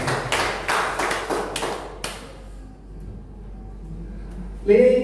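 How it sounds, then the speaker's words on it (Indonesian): A handful of sharp, separate claps at a school teachers' gathering on positive school culture, several distinct strokes close together that stop abruptly, followed by near silence and then a voice starting to speak. "Boleh tepuk tangan buat dosen guru semua."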